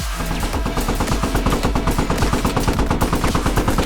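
Rapid bursts of automatic gunfire repeat steadily and loudly throughout in the video game Squad, sharp rhythmic cracks over a low rumbling game soundscape.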